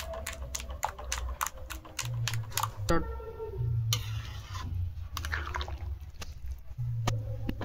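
A utensil whisks gram flour (besan) batter for fried eggplant in a home kitchen, producing quick, steady clicking taps in a brisk rhythm, fairly quiet, with a little background noise.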